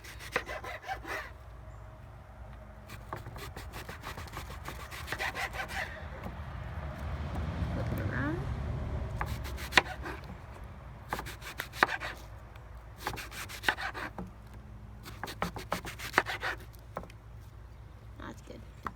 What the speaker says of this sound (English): All right, so we're chopping our onion right now.